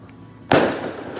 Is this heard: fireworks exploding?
yes